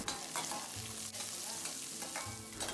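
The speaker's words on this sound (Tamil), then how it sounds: "சின்ன வெங்காயம் சேர்த்துட்டு அதை நல்லா பொன்னிறமாக வறுத்து விடுங்க" Small onions (shallots) fry in hot oil for a crab masala gravy, giving a steady close sizzle broken by the soft scrapes of stirring.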